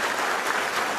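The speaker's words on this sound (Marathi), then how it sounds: "तर ते टाळ्या कशा वाजवायच्या असतात दाखवा बरं जरा." A rally crowd claps, a dense continuous wash of many hands striking together, loud and even for the whole short stretch with no voices above it.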